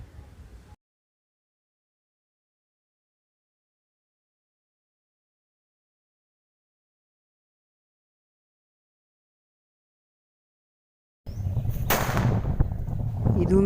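Near-silence, then a single sharp bang from a homemade paper firecracker, leaving a short burst of rumble and crackle behind it.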